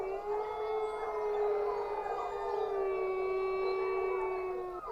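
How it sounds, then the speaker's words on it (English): A wolf howls in anguish, one long, sustained, mournful tonal howl with gently wavering pitch, clear and fairly close, heard alone without talk. "Again the wolf howls in anguish."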